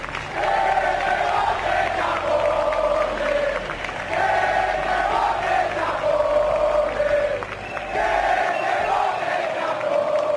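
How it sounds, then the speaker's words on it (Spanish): A large crowd at a public event shouts and boos the Spanish prime minister, who appears alongside King Felipe VI, in loud continuous waves of jeering voices that swell and dip with a brief lull near the end. "no pudieron evitar los gritos y abucheos al presidente"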